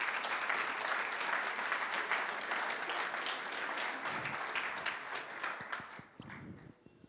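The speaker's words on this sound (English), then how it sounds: "Let us applaud them." Audience applause at the International Physicists' Tournament 2019 grand finale, a dense crowd clapping steadily for several seconds before thinning out and fading near the end.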